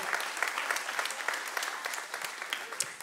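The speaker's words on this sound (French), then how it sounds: "il faut que vous alliez debout tout le monde et on applaudit, on acclame" A church congregation claps together in a steady, busy round of applause with sharp individual claps standing out, sustained for a few seconds after a wedding announcement.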